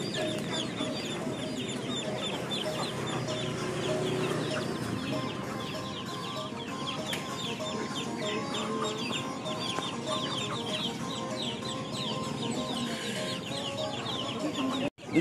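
A crowd of free-range village chickens in a coop clucks and chatters continuously, many birds overlapping in a dense, busy din with no one speaking.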